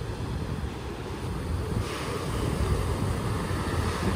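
Surf waves breaking and rolling in at a beach during boat surf launches, a steady broad wash with wind noise buffeting the microphone, no voices.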